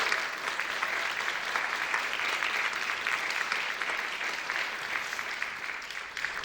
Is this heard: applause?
yes